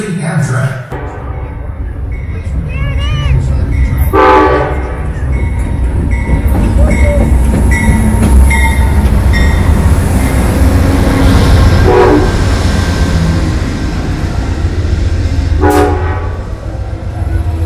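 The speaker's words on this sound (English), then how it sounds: "Please remain on the station side of the tracks until the train is ready for boarding" An Amtrak Coast Starlight train idles at a station platform, its steady engine rumble running throughout, with several short horn blasts cutting through and a public-address voice speaking over the noise.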